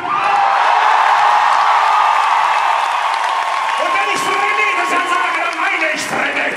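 Crowd at a concert in Regensburg applauding and cheering, a dense steady wash of clapping with scattered whoops and shouts rising near the end.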